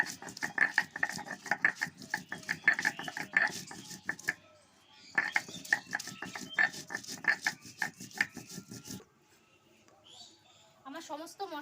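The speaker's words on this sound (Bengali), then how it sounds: "আর যা বাকি মশলা আছে সেগুলো আমি এই একইভাবে বেটে নেব।" Garlic, cumin, ginger, onion and chili being ground on a flat grinding stone for a Bengali jackfruit-and-prawn curry, with repeated rhythmic scraping strokes in bursts separated by short pauses, close and fairly loud.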